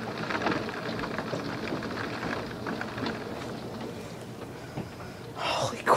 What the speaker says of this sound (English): The hail is almost the size of golf balls.